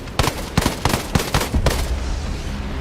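Turret gunfire in Ghost Recon Breakpoint, a rapid burst of loud booming shots in quick succession, close and forceful, trailing off into a rumbling echo with no speech.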